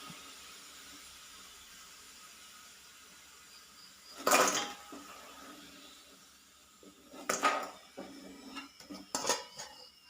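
Fried french fries are scooped out of a pan, giving a few metallic scrapes and clinks of a utensil against the pan over a faint sizzle, the clatter sharpest near the start and clustering toward the end.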